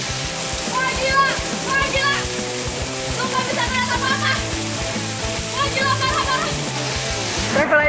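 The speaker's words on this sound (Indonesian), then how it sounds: "rappelling di bawah guyuran air terjun ini bakal jadi sensasi tersendiri" Waterfall pouring down during rappelling, a loud dense rush of falling water and splatter, constant and close, with music-like tones layered over it and no speech.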